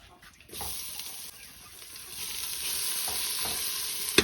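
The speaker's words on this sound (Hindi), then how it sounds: "चलो अभी बेम्बू शूट डालते हैं।" Fermented bamboo shoots drop into hot oil in a village kitchen in Arunachal Pradesh, and a steady frying sizzle rises and holds, with some stirring scrapes and a brief clatter at the end. No one speaks.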